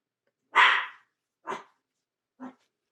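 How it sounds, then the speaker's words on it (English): Dogs bark indoors during a crochet session: one loud, close bark followed by two shorter, softer barks spaced about a second apart, with silence in between. "they just bark at everything"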